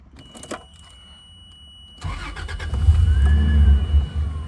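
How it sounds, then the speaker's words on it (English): 1995 Toyota Land Cruiser FZJ80 with the 1FZ-FE fuel-injected engine, with some clicks and a thump before the engine catches and then runs in a steady, deep low rumble close by, with no voices. "So we have it running nice and smooth."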